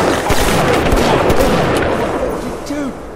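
Rapid gunfire in the video game Bioshock, a dense, continuous barrage of shots and booms lasting a few seconds, loud and busy with game sounds mixed in.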